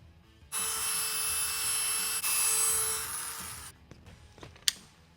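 A buffing polisher works a freshly finished fender flare on a C5 Corvette, a steady high whine running close and loud for about three seconds before cutting off, followed by a few light clicks and a sharp tap.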